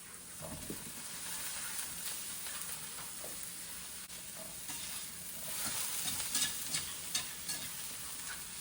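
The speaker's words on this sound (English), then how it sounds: "Gave these a nice good stir" Vegetables cooking alongside steaks in a cast iron pan give a quiet, continuous sizzle with intermittent stirring scrapes and light taps, growing a bit busier toward the end; no talking.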